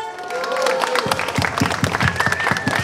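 At a street rap battle, a crowd claps in a steady rhythmic beat for MC Peke, mixed with cheering and shouting voices, loud and close.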